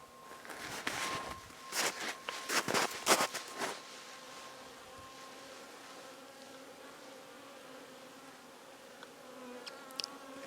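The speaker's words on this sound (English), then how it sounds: "This bee's taking a break on my hand." A bee buzzes up close near snow-buried beehives on a mild winter day, with a series of loud brief buzzing bursts early on, then a faint steady hum and quiet outdoor ambience.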